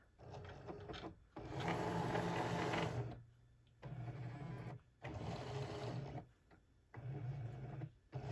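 A Cricut cutting machine scans the registration line on printed Christmas stickers, a close mechanical whirring that runs in four separate bursts with short quiet pauses between them.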